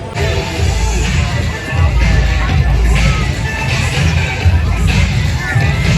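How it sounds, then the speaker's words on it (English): Dense crowd noise at the Magic Kingdom during Mickey's Not So Scary Halloween Party, a steady loud babble of many voices with occasional shouts and cheers, close around and continuous. "This is the crowd level right now."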